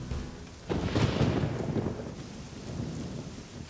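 Heavy rain in a Korean thriller film scene set on a rainy day in 1997, steady hissing downpour with a deep rumble of thunder swelling briefly near the start.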